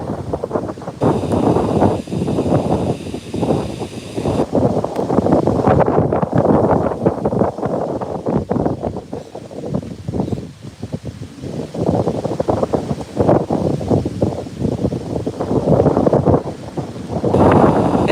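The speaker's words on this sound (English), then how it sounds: "So, wow, this is so windy." Strong wind buffeting a microphone beside a pond outdoors, a continuous loud rumbling roar that swells and eases across the stretch with no talking.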